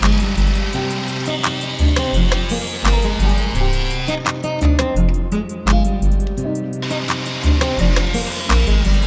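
A power tool cuts into the plastic front bumper of a Subaru BRZ to gain wheel clearance, producing loud, continuous grinding and sawing in repeated bursts with short pauses, close up and alone.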